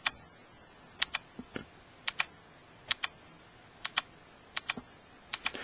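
Stylus taps on a Nintendo DS touchscreen keyboard in the DS Browser, a string of sharp, light clicks that come singly and in quick pairs at uneven intervals, close and fairly quiet, with no talking.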